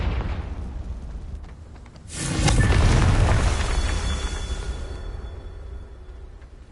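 A blasting spell, Confringo, detonates after a quieter rumbling stretch: a sudden loud burst that swells into a roaring explosion, then slowly fades as the rumble trails away.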